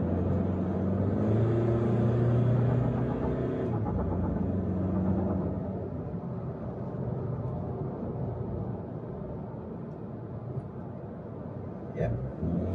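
A 2019 Mitsubishi Triton pickup with the 2.4 diesel engine drives along while overtaking, a steady low engine drone and road rumble from inside the cab, louder at first, with someone talking over it.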